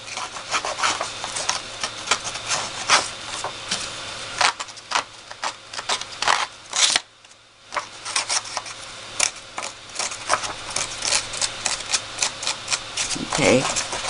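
Paper scraped and rubbed hard in a craft distressing session, giving dense, continuous scratchy strokes with sharp ticks for most of the stretch, a brief pause near the middle, then more rough rubbing.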